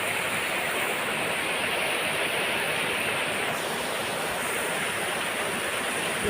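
Heavy rain pours down steadily, a dense, loud, unbroken rushing hiss like water streaming in, filling the whole stretch with no pauses and no voices.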